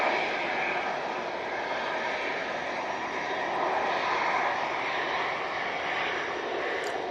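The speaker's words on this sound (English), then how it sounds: "next in, we've got the Ryanair 737 MAX 8 coming in from Dublin" A Ryanair Boeing 737 MAX 8 from Dublin comes in to land on a blustery day, its jet engines a steady, broadband roar held at an even loudness throughout, with no voices.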